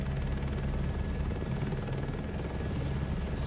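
Helicopter engine in Microsoft Flight Simulator 2024 during a VR crop-dusting flight, a steady, loud rotor thrum and turbine drone that holds constant throughout with no talking.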